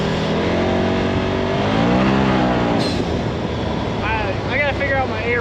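Engine of a Polaris RZR Turbo running steadily with a low rumbling drone and rising, falling pitch sweeps, heard up close with wind noise and a voice talking over it.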